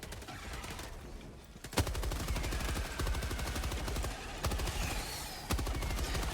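Machine gun fire in the shooter Helldivers 2, a steady stream of rapid, evenly spaced shots punctuated by a few heavier bangs, loud and continuous over a noisy combat backdrop.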